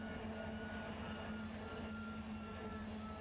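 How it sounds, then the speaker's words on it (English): Train end-of-train device in Run8 Train Simulator emits a steady, faint electronic tone over a low rumbling rail background, continuous and unchanging with no talk. "You can hear the EOTD, end of train device."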